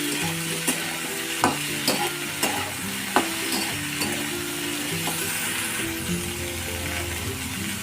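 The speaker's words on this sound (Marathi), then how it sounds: "मिरच्या अशा सतत हलवत राहायच्या जेणेकरून एकसारख्या सर्व बाजूने भाजल्या जातात" Green chillies roasting in a hot pan with a continuous sizzle and frying crackle, stirred with a few sharp clinks of a spatula against the pan, up close and with no talking.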